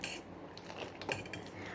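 A spoon scrapes and clinks softly against a pan while Amul milk thickens inside it, a faint, brief stirring sound with no voices.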